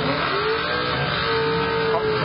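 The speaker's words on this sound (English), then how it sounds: "That little blue Omni is up and gone" Little blue Dodge Omni drag car accelerating down the strip at a Hot Rod Drag Week event in Tulsa, Oklahoma: a brief, steady engine roar at moderate distance, with faint crowd or background noise.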